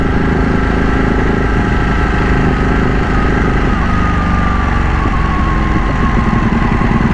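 A Ducati Panigale 1199 Tricolore with a modified exhaust, ridden on the road, its engine droning loudly and steadily throughout, close to the microphone with a shift in pitch partway through.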